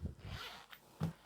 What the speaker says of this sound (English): Open the zip out,